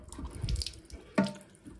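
A combi boiler system's cold water tap trickles after the mains is shut off, giving a few faint splashes and drips into a sink, close by and brief, with one sharper spatter near the end.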